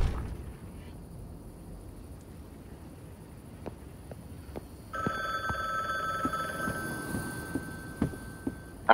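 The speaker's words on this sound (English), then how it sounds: "I mean, that's a really loud phone." A loud telephone bell in a story-driven game rings in a sustained electronic trill midway through, after a quiet stretch with scattered clicks and soft footsteps.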